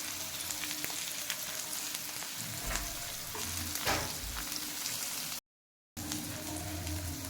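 Slices of arbi (taro root) frying in oil over a medium gas flame, a continuous bubbling sizzle with occasional spatula scrapes and a brief cutout near the end.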